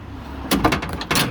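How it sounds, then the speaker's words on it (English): The door of a 1969 Corvette C3 opens up close, with a short mechanical clunk and rattle followed by a second solid knock. "let's open up this door"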